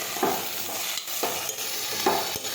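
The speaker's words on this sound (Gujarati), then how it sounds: "હવે આપણે સાતળી દઈશું." Chopped tomatoes and green garlic sautéed in a pan, a steady close sizzle with three scraping stirs at roughly even intervals, no talking.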